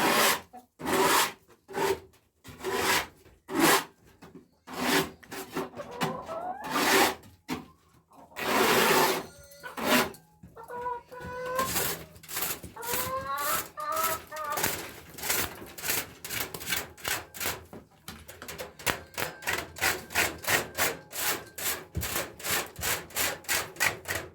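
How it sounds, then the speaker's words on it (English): Repeated raspy scraping of bird droppings off perch and cage surfaces at home, a steady series of close rubbing strokes that grows faster and more even toward the end, with no talking. "I'm going to scrape off all of this off of all these surfaces."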